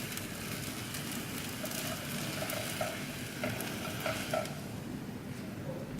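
A crepe for crepe Suzette cooks in a pan after being flipped, giving a steady close sizzle with faint scraping and a few soft clicks throughout, no talking.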